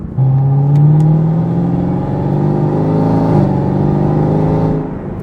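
A tuned Camaro ZL1 engine revving hard and accelerating up an on-ramp, its deep throaty roar climbing in pitch, loud and close, then easing back toward the end.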